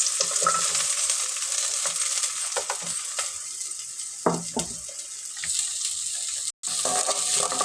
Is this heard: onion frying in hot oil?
yes